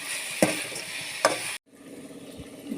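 Fenugreek leaves and tomato curry sizzle in a pan while a spoon stirs them, with a couple of sharp scrapes against the pan and a steady fry that drops away briefly, then returns more softly.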